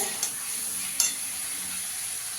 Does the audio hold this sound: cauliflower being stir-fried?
yes